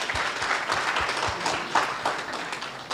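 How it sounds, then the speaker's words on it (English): An audience at an annual general meeting applauds the CEO with steady, moderately loud clapping from many hands, lasting the full three seconds without talk. "A round of applause to the CEO."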